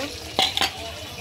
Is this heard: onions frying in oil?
yes